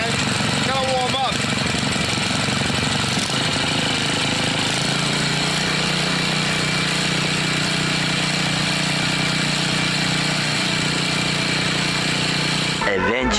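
Briggs & Stratton 5 hp OHV engine on a Mastercraft (Lawn Chief) rototiller idling close by, a loud, steady mechanical drone with a constant low hum, recently repaired for a stuck valve; a voice speaks briefly near the start.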